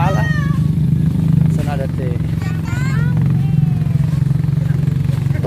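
Motorcycle ride along a winding road toward Gobong Kuala, with a steady engine drone and wind rumble running throughout while people talk and call out over it.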